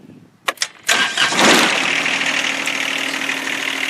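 A tractor engine on a farm cranks with a few sharp turnovers, then catches and settles into a loud, steady close-up idle.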